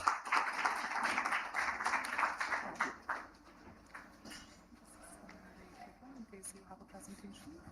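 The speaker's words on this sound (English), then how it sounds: "warm round of applause." Warm applause from a conference audience at an out-of-home advertising event, dense clapping for about three seconds that then thins out into scattered claps and room murmur.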